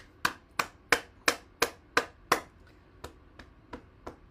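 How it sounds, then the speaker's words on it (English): During a morning bouncing exercise session, hands clap about eleven times in a steady, crisp rhythm that is close and clear. The final few claps are noticeably softer than the rest. "All right, let's clap."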